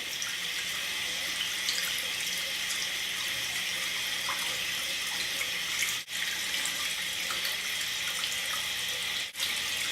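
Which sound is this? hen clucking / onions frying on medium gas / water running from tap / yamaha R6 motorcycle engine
water running from tap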